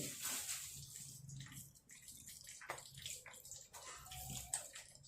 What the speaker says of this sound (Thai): ใส่กะทิลงไปเลย